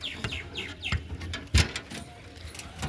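Muffed-footed pigeons in a loft give soft, short chirping calls at close range, along with a sudden thump partway through and a quiet background hiss.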